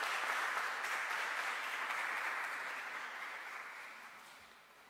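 A church congregation applauds at a Eucharistic celebration for the Solemnity of St Thomas the Apostle, a broad wash of clapping that starts full and slowly fades away, with no talk over it.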